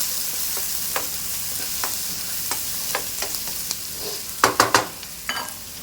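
Chicken fried rice with capsicum sizzles steadily in a hot pan, broken by scattered scrapes and clacks of stirring, with a quick cluster of louder spatula knocks near the end.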